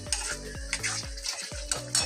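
Potatoes frying in oil tempered with cumin seeds, bay leaf and dried red chillies, stirred in a pan with a utensil: a quick, regular scraping rhythm of strokes over a low, constant sizzle.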